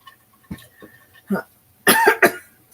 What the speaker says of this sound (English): I started having coughing last night.